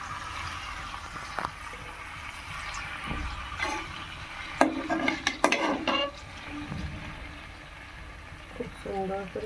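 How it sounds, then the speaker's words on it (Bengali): Curry masala being stirred and fried in a pan, a low sizzle under clattering spoon scrapes and knocks against the pan that cluster in the middle, with faint talking in the background. "খুব সুন্দর করে কষানো হয়ে যাচ্ছে"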